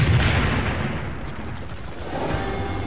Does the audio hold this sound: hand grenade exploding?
yes